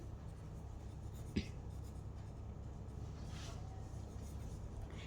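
Pen writing on paper while working a class 9 maths problem on the area of a triangle, faint close scratching with one sharp tap early on over a low steady background hum.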